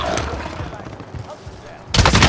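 Call of Duty Warzone gunfire during a headshot, brief crackling shots under game noise, ending in a loud close burst of rapid fire.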